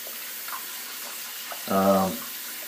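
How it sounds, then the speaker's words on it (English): Water runs steadily from a tap to wet a shaving brush, a hiss of flow heard throughout, with a brief voiced sound rising over it partway through. "So let's go ahead and let's get the brush wet and load it."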